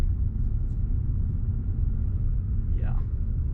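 A BMW E90 328i with a manual gearbox drives along, its low engine and road rumble steady and close inside the cabin, with a short rising tone near the end.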